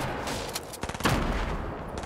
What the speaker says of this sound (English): They're gonna shoot us.